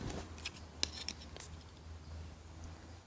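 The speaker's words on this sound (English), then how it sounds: "and cut this yarn" Scissors snip crochet yarn while a baby beanie is being made. There are a couple of faint, close cuts over a low, steady room hum.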